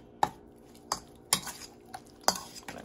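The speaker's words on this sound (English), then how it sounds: "So what I'm going to do is I'm going to mix this on up now." Spoon mixing chopped pepper, basil and other ingredients in a bowl in a home kitchen: five or six sharp, quiet clinks and scrapes spaced about a second apart, close up, with no talking.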